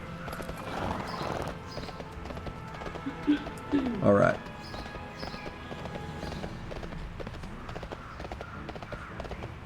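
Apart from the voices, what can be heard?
horse mount hooves clip-clopping in video game World of Warcraft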